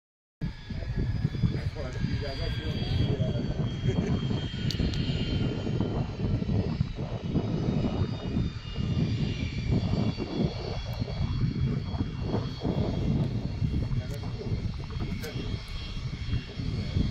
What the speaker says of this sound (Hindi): private jet